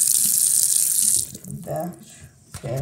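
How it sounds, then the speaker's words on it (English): A tap runs into a sink for about a second with a close, bright gush, then cuts off, followed by brief talk and faint handling noises. "Turn the water on."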